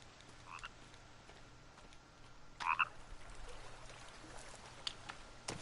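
Frogs croak in a forest survival video game, a short burst of croaks standing out near the middle over a faint steady ambient background, with a couple of softer calls before and after.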